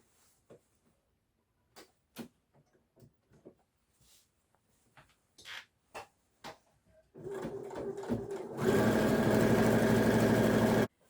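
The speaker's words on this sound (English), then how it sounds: "And then sew all the way around your bag." A sewing machine stitches around the edge of a fabric tote bag, starting after a run of scattered clicks and handling knocks, then settling into a steady, loud mechanical whirr that holds for the last few seconds.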